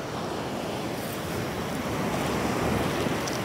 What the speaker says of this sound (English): I had to get out of the way of the waves, everyone. They are absolutely just crashing in on me.